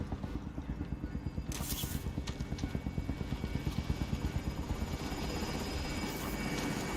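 A helicopter from the Call of Duty Warzone video game thuds nearby with a rapid, steady rotor beat and a continuous engine drone, and a voice speaks briefly over it.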